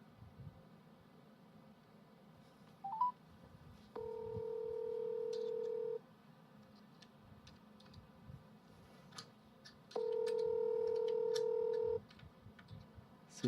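Telephone call being placed: a few faint dial tones, then two long steady ringback tones separated by a pause, heard quietly over a low room background with occasional clicks.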